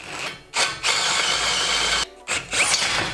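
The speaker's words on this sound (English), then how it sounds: "1/2-inch drill bits are aggressive, man." A power drill with a half-inch bit bites into metal in loud, rough bursts, widening bearing and engine mount holes on a pit trike, briefly stopping twice between runs.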